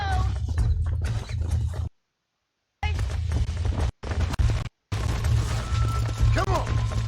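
A horse in Red Dead Redemption on Xbox One, being broken in, gives a few whinnies amid clip-clopping hooves and struggling, while someone talks over much of it, with brief silent gaps.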